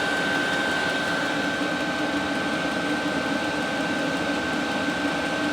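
8KW Chinese diesel heater running and blowing out heat, a loud steady broadband whoosh of air with a constant mechanical hum and tone, unbroken throughout, no voices.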